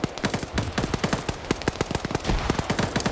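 Rapid crossfire in an online video game match, with dense automatic gunfire cracking in quick irregular bursts from several weapons, loud and close throughout.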